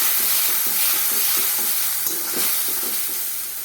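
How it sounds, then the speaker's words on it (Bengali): Spices (ginger, coriander, cumin, chili and turmeric) fry in a pan while a utensil stirs them in steady, rhythmic scrapes over a constant close sizzle. "মশলাটা দিয়ে আমি একটু নাড়াচাড়া করে নিলাম।"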